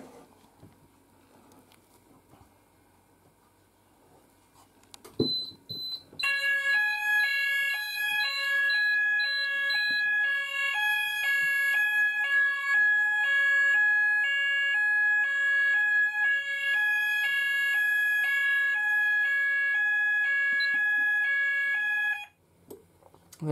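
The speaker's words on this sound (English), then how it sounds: "And we still have the XP95 beacon as well, and open area sounder" After a quiet start with faint clicks, an Apollo XP95 open area fire alarm sounder starts up loud and close, a rapid electronic alternating two-tone warble that repeats evenly for about sixteen seconds before cutting off.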